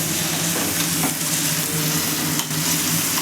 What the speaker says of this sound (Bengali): কালো জিরে ফোড়ন দেওয়ার পরে টমেটোটা দিয়ে দেওয়া হয়েছে এবং সেটাকে ভালোভাবে মজিয়ে নেওয়া হলো